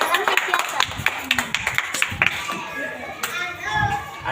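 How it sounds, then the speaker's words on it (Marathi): Schoolchildren in a classroom clap their hands during a geometry puzzle lesson, quick sharp claps in a short burst mixed with voices, then talk continues. "टाळ्या वाजवा रे"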